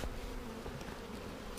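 Honey bees in an opened package hive give off a faint, steady buzzing drone that stays even for the whole moment, with no voices.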